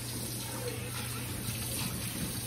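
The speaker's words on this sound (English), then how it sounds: "what I'm gonna do is I'm gonna rinse this pan" Tap water runs steadily into a pan being rinsed in a home kitchen, a continuous close splashing hiss with a low hum underneath and no talking.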